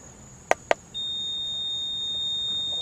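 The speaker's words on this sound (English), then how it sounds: "I don't know what that buzzer is." Two short beeps followed by a steady high-pitched tone from a car's dashboard warning buzzer, heard while an OBDII scan tool is hooked up; the tone keeps sounding clearly and alone at a moderate level.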